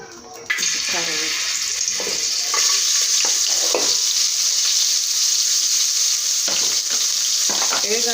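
Carrots hit hot oil in a pot and set off a sudden loud, steady sizzle that hisses on without a break, with occasional stirring knocks and a faint voice underneath.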